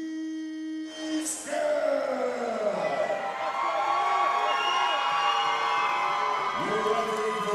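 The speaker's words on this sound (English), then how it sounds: "Nick Ryan getting the crowd fired up here Saturday night." A fight night crowd cheers and roars, a dense continuous wall of voices and whoops building after a brief quieter opening, with an announcer's amplified voice ringing over the arena.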